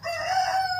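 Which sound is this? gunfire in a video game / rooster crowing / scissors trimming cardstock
rooster crowing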